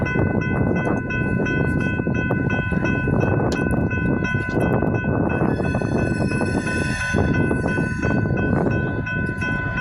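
An Ann Arbor Railroad train switches in the yard at its southern terminal, a steady rumble of locomotive and cars with clanks and a brief horn-like tone, heard continuously from moderate distance.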